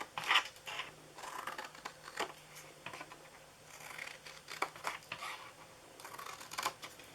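Scissors snip through cardboard for a homemade donut box, a series of quiet, close, irregular cuts and crunches with small handling noises between them.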